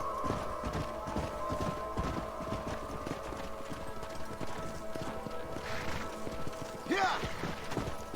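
Steady clip-clopping of horse hooves throughout, with a horse's whinny near the end over a low ambient hum, in the video game Red Dead Redemption 2.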